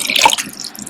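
Water poured into a container holding dried seaweed, a short splashy trickle with bright drips that fades into a faint wet patter.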